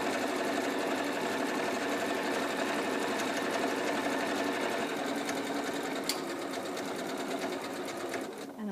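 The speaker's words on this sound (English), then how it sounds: "I'm going to keep zigzagging, even though there's extra layers of fabric, and I'm going to keep sewing." Sewing machine zigzag-stitching over thick seams with extra layers of fabric, a steady close-up mechanical whir with rapid needle clatter running throughout, slowing slightly near the end.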